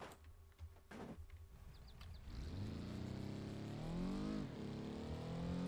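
A car engine in a video game, apparently battered after a crash, starts with a few faint clicks, then revs up into a loud, steady roar that climbs and wavers in pitch.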